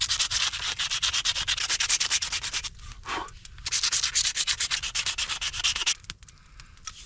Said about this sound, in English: Oh, now we sand.